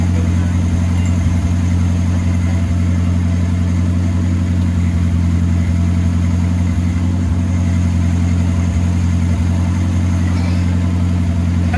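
A 1977 Ford Mustang II engine, long off the road and now on race fuel, idles steadily and loudly after a restart, with a rough low rumble throughout.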